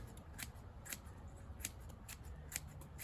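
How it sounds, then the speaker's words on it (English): Banana peel being chopped into pieces for a worm bin, giving a series of sharp, moderately close cutting clicks at an irregular rhythm over a low background rumble, with no talking. "I'm going to chop it up."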